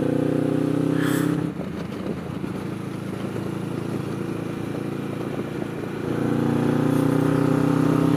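A motorcycle with a Del Kevin exhaust rumbles steadily while riding, its engine drone close and loud through a small helmet-mounted iPhone microphone, dipping briefly before the revs rise again.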